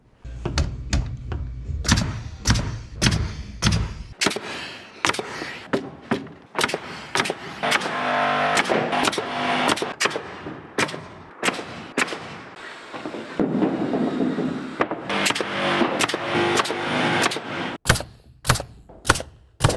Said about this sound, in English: only nailing into the trusses with 3-inch nails